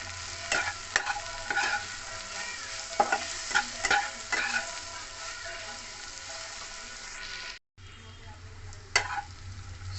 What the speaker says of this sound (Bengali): মিশিয়ে ভেজে নেবো একটু।